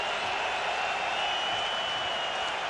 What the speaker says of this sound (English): Crowd's getting into it again.